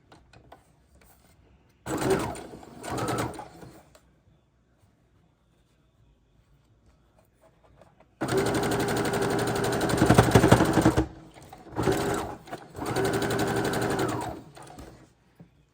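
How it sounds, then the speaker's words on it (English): A sewing machine stitching quilt block pieces together, first in a short two-second run, then after a pause in longer close, steady whirring runs separated by brief stops. "fold over the seams, and then sew them together"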